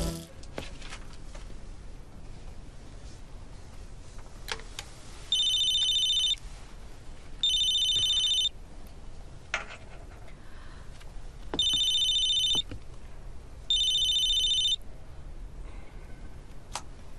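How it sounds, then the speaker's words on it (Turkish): An office telephone in a hospital rings four times in clear, evenly spaced bursts of electronic bell tone over a quiet room background. "Aslan Bey'in telefonu, buyurun"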